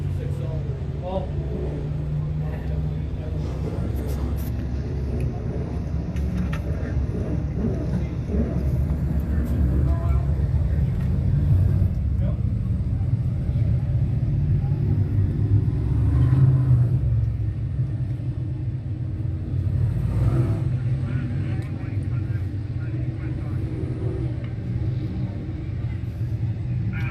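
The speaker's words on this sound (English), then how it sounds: "First heat for the sportsman cars out on the speedway here tonight." Sportsman race cars run a heat on an oval speedway at night, a steady loud engine rumble and roar filling the whole stretch with faint swells as the pack circles, while an announcer talks over the track noise.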